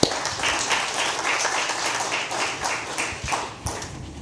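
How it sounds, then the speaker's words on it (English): Audience clapping at a live talk-show taping, a steady patter of hands from a small crowd lasting several seconds, moderately close, with a few louder claps near the end. "Clap for that."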